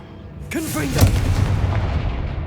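In Hogwarts Legacy, a Confringo fire spell is cast and bursts into a sharp booming blast with a crackling tail, loud and close, following a quick whooshing cast; a voice speaks briefly around it.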